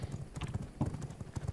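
Horse hooves clip-clop in the video game V Rising, a quick, steady run of close, thudding hoofbeats at a brisk trot, quiet overall.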